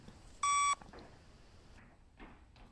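A single loud electronic beep from a shuttle run (Luc Léger) fitness test, a steady tone lasting about a third of a second, followed by faint background noise and soft movement.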